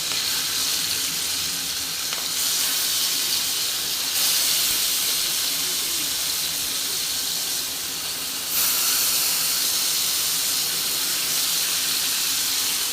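Surmai fish pieces with a masala coating shallow-frying in a spoonful of oil in a hot pan, giving a loud, continuous hiss and sizzle with slight surges in intensity throughout.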